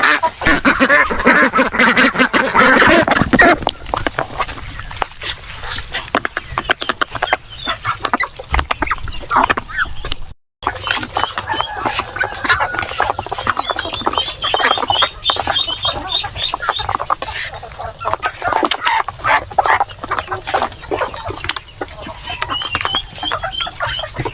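Peking ducks and chickens in a farm pen, loud continuous quacking and clucking from many birds close by throughout, with a brief gap partway.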